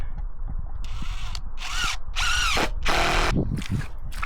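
A power drill driving screws into a box whirs in several short bursts, rising and falling in pitch, with brief pauses between runs; close and fairly loud.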